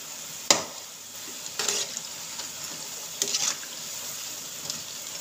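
Cabbage pakoda fries in oil under a soft, steady sizzle, broken by a few brief scraping stirs of a spoon at irregular intervals, close and fairly quiet.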